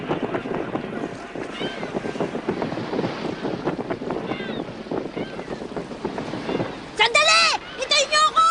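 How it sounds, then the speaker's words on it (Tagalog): A sailing ship races along under raised sails, with a steady rush of wind and water filling the background while several voices shout and talk over it, louder calls near the end. "Masyado na yata mabilis itong barko ah."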